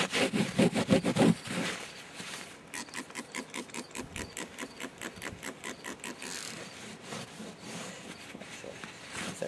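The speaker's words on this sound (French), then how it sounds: "Fait qu'on va essayer de nettoyer avec du Mirage 2000." Rhythmic back-and-forth scrubbing as Mirage 2000 cleaner works at leftover silicone residue around a dome, close and moderately loud, with quick regular strokes that slow and soften toward the end.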